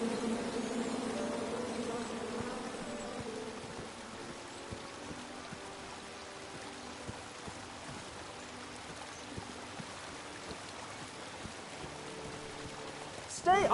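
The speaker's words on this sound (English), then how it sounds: "And then you chop down the tree full of angry bees?" Swarm of angry bees in the video game King's Quest, a steady droning buzz that runs throughout over a faint watery background hiss, ending in a brief louder burst.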